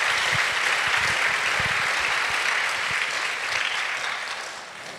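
A graduation ceremony crowd at The Shlenker School breaks into dense, sustained applause that holds steady, then gradually thins and fades toward the end.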